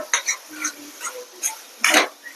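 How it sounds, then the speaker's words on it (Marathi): Dried Bombay duck being stirred into ground masala paste in a bowl: a few soft, scattered scraping and clinking strokes, close and quiet, with one louder scrape near the end. "अशा पद्धतीने बोंबील मिक्स करून झाले"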